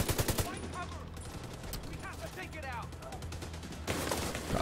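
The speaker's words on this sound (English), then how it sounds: "it's shooting at us" Rapid automatic gunfire in The Division 2 video game rattles on in fast bursts throughout, with people talking over the shooting.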